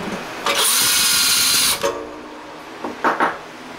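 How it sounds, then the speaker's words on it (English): A power drill fitted with a hand countersink whines in a sustained burst of just over a second, countersinking holes, followed by a few short, quieter spins after a pause. "I'm just going to take a countersink and just countersink the holes"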